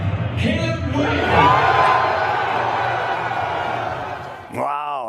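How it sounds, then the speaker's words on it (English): Energetic crowd of football fans cheering, whooping and yelling at a Chicago Bears draft party at Soldier Field, a loud, dense roar with a voice talking over it. "energetic crowd at the Bears draft party at Soldier Field last night"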